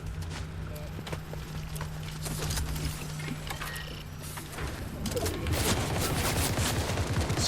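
Fortnite Battle Royale gunfire crackles as dense bursts of shots over steady game ambience, with players talking throughout.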